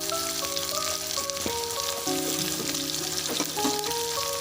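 Onions frying in a pan of oil for Bangalore-style bisi bele bath, a steady close sizzle with tonal hum and faint clinks running throughout, no voices.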